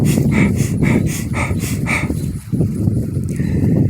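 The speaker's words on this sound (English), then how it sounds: "every time I felt hungry, I did my breathwork" Rapid breathwork breathing: a run of quick, forceful, evenly spaced breaths close to the microphone, roughly six sharp pulses, then a brief pause and more heavy panting.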